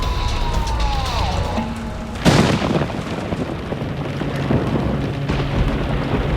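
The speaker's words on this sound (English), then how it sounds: "You feel the ground shake from the thunder." A sharp, loud thunderclap cracks during a thunderstorm, then rolls into a long rumbling tail over steady wind and rain noise, with a faint siren-like tone gliding beforehand.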